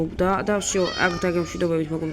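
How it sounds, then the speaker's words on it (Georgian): A cat meows several times, with drawn-out and wavering cries up close, while someone talks over it during a Minecraft gameplay recording. "კატის ხმა არის"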